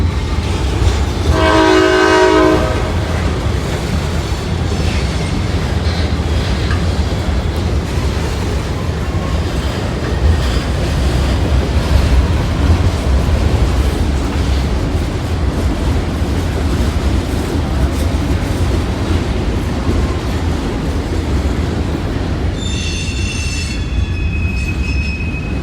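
A train rolls steadily past with a continuous low rumble, a loud horn blast near the start and again toward the end, and wheel squeal over the rumble.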